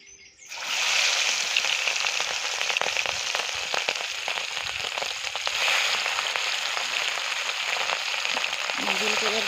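Gule fish, coated with salt and turmeric, fry in oil in a kadai: a loud, steady hiss starts abruptly after a brief quiet moment and continues close up, with crackling spatter and occasional stirring.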